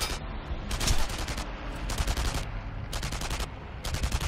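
Rapid bursts of gunfire from the video game Enemy Front crackle loudly in repeated volleys, with short pauses between clusters of shots aimed at the player.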